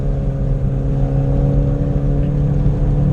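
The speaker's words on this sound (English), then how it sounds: "the turbocharged 4-cylinder feels pretty dang peppy" Steady turbocharged four-cylinder engine hum from a 2018 BMW 430i Convertible (F33) while driving, a smooth continuous drone with road rumble and no talking.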